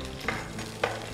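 Green chillies sizzle in hot oil with a steady crackling hiss, punctuated by two short, sharper spits as pieces hit the pan, close and fairly quiet.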